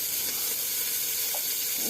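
Chopped onion and garlic fry with whole spices in hot oil, making a continuous bright, hissing sizzle that stays close and even throughout, with no talking.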